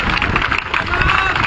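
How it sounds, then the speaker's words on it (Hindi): Applause at a packed political rally at Shaheed Smarak in Jaipur, a dense, continuous wash of clapping and crowd noise for the full brief moment. "जोरदार तालियों के साथ स्वागत करें।"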